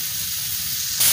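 Banana blossom sizzles steadily in a hot pan, a constant close frying hiss that surges louder near the end.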